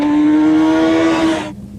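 Motorcycle engine pulling hard out of a corner, a loud steady rising engine tone carried close for over a second before cutting off abruptly into quiet.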